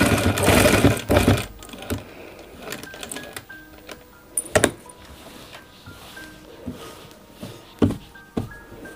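A sewing machine stitches a men's kurta in short runs between pauses, loud and close, with occasional clicks and taps between the runs.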